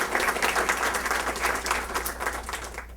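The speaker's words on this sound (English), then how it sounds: "A shorter round for applause for those folks." Audience applause for volunteers and Citizens Police Academy graduates at a police swearing-in and Medal of Valor ceremony, a steady round of clapping that tapers off at the end.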